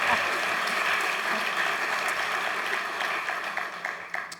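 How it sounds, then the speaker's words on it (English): An audience at a conversation event with Justice Ketanji Brown Jackson applauds in a dense, sustained wash of clapping that thins out toward the end. "You can clap for that."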